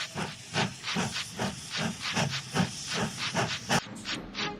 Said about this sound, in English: And Wyatt puffed importantly away